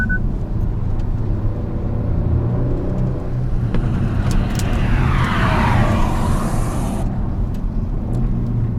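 A Kia Stinger GT engine drones steadily at high volume on a race track, a constant mechanical roar with a rising sweep midway, with no voices.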